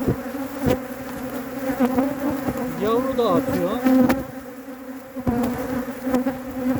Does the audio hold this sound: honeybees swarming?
yes